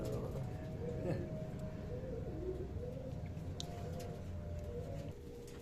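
Pigeons cooing in a small pigeon loft, low repeated throaty coos rolling along at a moderate distance under a steady background hum, with brief speech nearby.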